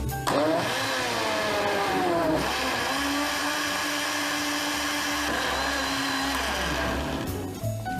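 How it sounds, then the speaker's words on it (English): Blender grinding watermelon with basil into juice, a loud steady motor whir with shifting pitch that runs continuously, then winds down near the end. "so now that we've done that, let's get it grinding."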